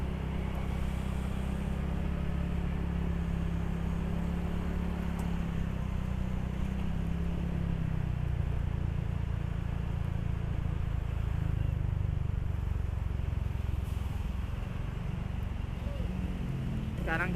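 Stop-and-go traffic jam on Jalan Transyogi heard from a Honda PCX 150 scooter, a continuous low rumble of idling and creeping engines with faint wind, steady and close throughout.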